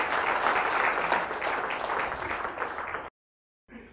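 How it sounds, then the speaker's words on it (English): A classroom of students claps for each other in a steady burst of moderately loud applause lasting about three seconds, then cuts abruptly to silence before faint room sound returns. "So please clap for each other."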